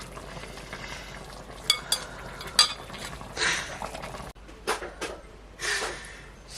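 Used fish-frying oil sizzles and crackles in a pan while cooking Nigerian fish stew, with intermittent scraping and stirring clatter and bursts of louder frying hiss.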